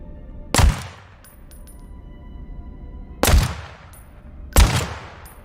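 Dual pistols firing in a video game: three sharp shot bursts, spaced apart, ringing out loud over a steady low game background with faint tonal ambience.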